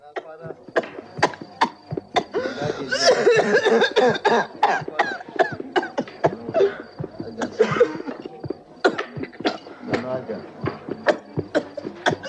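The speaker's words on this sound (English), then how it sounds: "a young woman was admitted to the hospital with a severe hacking cough" A sick young woman hospitalized with a severe hacking cough, coughing repeatedly in harsh, rapid bursts with ragged breaths between, close and loud, while people speak around her.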